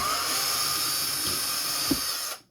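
A small power driver whines steadily while removing bolts from the rear axle of a Traxxas TRX4 RC truck, close and continuous, then stops abruptly at the end.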